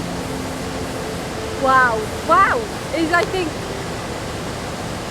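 Steady, broadband roar of Iguazu Falls fills the background throughout while people talk over it.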